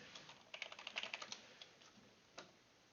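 Keystrokes clatter on a computer keyboard as an ifconfig command is entered on a Linux host, a quiet burst of rapid clicks followed by a single later tap.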